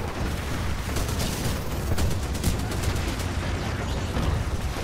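Enemy gunfire in the Titanfall 2 video game, a dense continuous barrage of loud shots and blasts rattling on without pause, with no voices over it.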